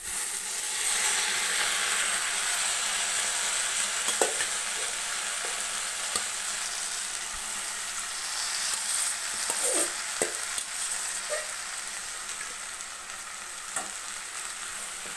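Snake gourd and onions stir-fry with a loud, continuous sizzle and occasional soft spatula taps and scrapes against the pan.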